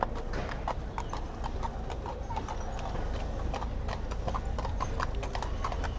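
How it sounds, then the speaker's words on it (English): A horse's hooves clip-clop in a steady, continuous rhythm on a road, loud and close, with a brief whinny-like call and no talking. "The horse."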